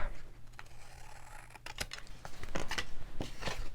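Scissors snip through scraps of craft paper in a series of short, crisp cuts, with small rustles of paper between the snips.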